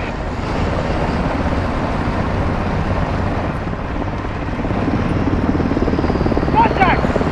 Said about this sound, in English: Nikolai, walk him with the helo